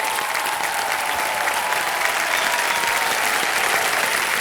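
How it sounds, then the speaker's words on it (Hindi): Steady, dense applause from a studio audience on a televised Indian quiz show, loud and continuous throughout with no break. "ताली बज जाए इनके लिए"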